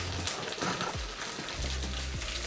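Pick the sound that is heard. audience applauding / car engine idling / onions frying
onions frying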